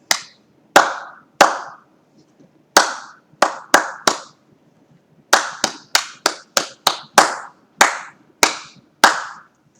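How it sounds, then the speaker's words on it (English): Bare hands clap a rhythm pattern, about twenty crisp, close, loud claps in uneven groups with short pauses between phrases, with nothing else heard. "Clap the rhythm and think the words."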